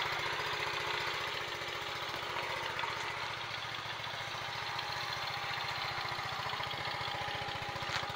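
A 1972 Honda Z50 Mini Trail minibike's small single-cylinder engine idles steadily nearby, a continuous even putter with rapid regular firing pulses and no talking.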